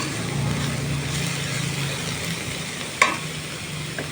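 Vegetables browning in a pan for pancit get stirred: a soft continuous sizzle under a low hum, with a sharp utensil clack against the pan near the end, nearby and moderate, with no speech.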